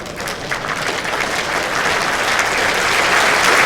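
A crowd at the World Bowls Championship breaks into warm, sustained applause, the clapping dense and steady and swelling slightly toward the end, with no voices over it.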